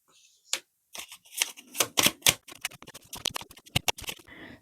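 Tarot cards are drawn and handled close by, a quick run of crisp snaps, flicks and shuffling clicks in irregular bursts, fairly quiet, with no talking.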